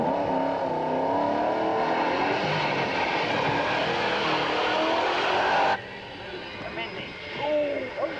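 A Mini rally car aquaplaning on a wet road during the 1991 West Cork Rally, a loud, steady roar of engine and rushing spray that drops away abruptly near the end, leaving fainter, uneven noise with voices audible.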